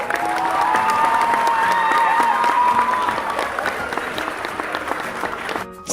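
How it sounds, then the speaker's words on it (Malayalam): Audience clapping together at a function, a steady, fairly loud applause running for several seconds with crowd noise and scattered voices mixed in. "ഇനി എല്ലാവരും ഒന്ന് കൈയടിച്ചേ."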